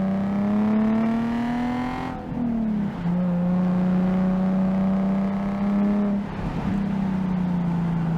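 A modified Nissan 370Z on a race track, its engine droning loud and close from inside the car, pitch climbing steadily through the gears with two brief dips at the shifts.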